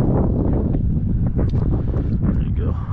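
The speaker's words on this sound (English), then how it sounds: "It's cold. It's windy." Cold wind buffets the microphone beside the California Aqueduct, a steady low rumble of gusts through the whole few seconds, with a voice partly audible under it.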